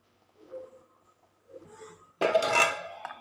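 A lid set on a pot of mango and sardine fish curry, a single clattering metal clank that rings briefly, preceded by faint soft scrapes in a quiet kitchen.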